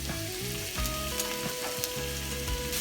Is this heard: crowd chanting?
no